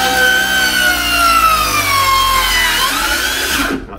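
Power saw plunging slowly into a coffee bar workpiece at the start of a cut, a loud, steady close-up whine whose pitch sags gradually as the blade bites, then drops off at the end.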